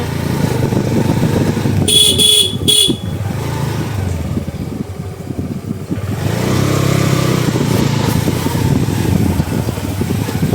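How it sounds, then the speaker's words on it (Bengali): Trolleys and pickup vehicles passing on a local paved road, loud close engine rumble rising and fading with a brief double horn toot, vehicles rolling by one after another. "ট্রলি পিক আপ সব ঢুকছে দর্শক"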